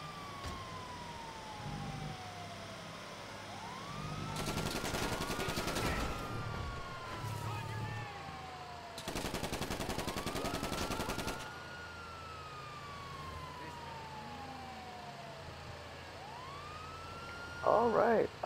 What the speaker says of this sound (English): that siren is giving me a headache